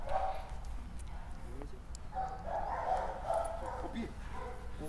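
A police training dog barks at a distance during an outdoor obedience drill, in short sharp barks under a handler shouting commands in Spanish, over steady background noise.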